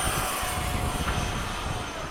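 A Freewing 90mm 8s F-22 RC model jet makes a low pass, its ducted-fan engine giving a loud, close, continuous roaring whoosh with no speech.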